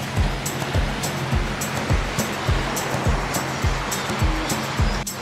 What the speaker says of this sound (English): Once you get to the mouth of the river and at the ocean, I mean, what's not to love? People all over the world love the ocean,